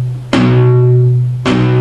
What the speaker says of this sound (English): use the palm of your hand to gently touch the strings just a little bit, and what you can do is pluck the power chord